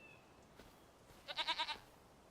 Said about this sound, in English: Look at them goats right there.